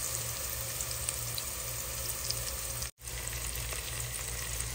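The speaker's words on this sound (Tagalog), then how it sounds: "Ikinigisa ko na po ang ating bawang at ang ating sibuyas" Garlic, onion and hotdog sauté in a pan, giving a steady, close sizzle and crackle of frying that carries on without a break, apart from one brief cut near the end.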